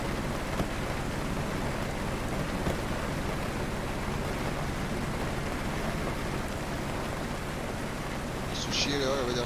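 Steady rain in a zombie survival video game, a constant soft hiss of falling water at moderate level, with a brief electronic tone near the end.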